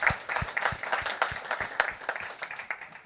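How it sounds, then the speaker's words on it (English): Light, fairly quiet applause from an audience at a tech summit welcoming a speaker, with individual claps distinct in an uneven patter and no talking. "big round of applause"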